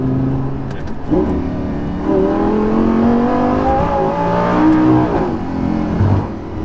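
A Lamborghini Gallardo LP550-2 engine at night, loud and close from inside the car, rising in pitch as it accelerates and dropping briefly at gear changes, a sustained rough mechanical roar throughout.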